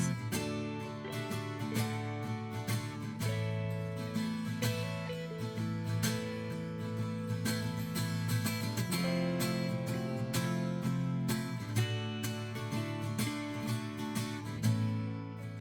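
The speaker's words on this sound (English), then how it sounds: "At first there's acoustic guitars and an electric guitar who plays small fills, which sounds like this." Acoustic guitars strum steadily while an electric guitar adds short melodic fills over a full, continuous backing.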